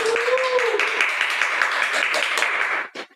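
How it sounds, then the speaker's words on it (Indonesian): An audience at a podcast recording breaks into steady applause for the guest speaker, a dense patter of many hands clapping close by for about three seconds before stopping abruptly. "Tepuk tangan dulu untuk narasumber kita hari ini"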